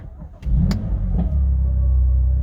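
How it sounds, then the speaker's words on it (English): A BMW M2 engine starting: a few electronic chimes, then a brief crank and the engine catching into a deep, steady idle rumble close by. "There you go, start the vehicle."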